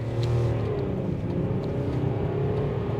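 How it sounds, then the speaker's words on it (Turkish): A BMW X5 E53 with the 3.0 diesel accelerates at full throttle up a gentle incline, heard from inside as a loud, continuous engine drone that climbs steadily in pitch. "Dip gaz yaptım. Bir kalkalım abi."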